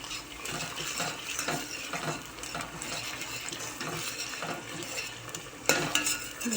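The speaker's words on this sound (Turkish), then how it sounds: "Şöyle bir salçasını kavuralım yemeğimizin." Tomato paste being fried with browned onions in a pot, a soft crackling sizzle broken by rhythmic stirring scrapes and a sharper clack of the spoon near the end, fairly quiet and close, no voices.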